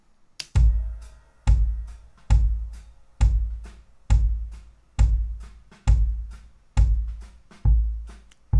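Punchy, bright drum hits land at a steady pace, about ten in a row, each with a heavy low thump and a crisp snappy top, no voices.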